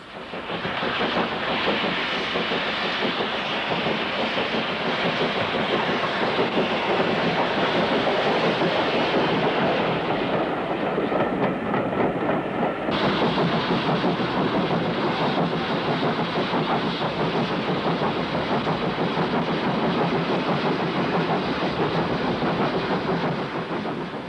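Stirling Single steam locomotive running on rails, a loud, steady rumbling roar with faint rhythmic clatter that holds for the whole stretch, with no voices.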